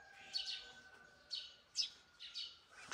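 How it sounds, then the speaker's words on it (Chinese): Wild sparrows chirp outdoors in short, faint, high tweets, about five bursts in under three seconds, with no talking. "听到有野麻雀叫，它挺激动的。"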